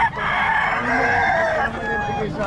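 A rooster crows once, close and loud, a drawn-out call filling the whole moment, with a faint cluck near the end.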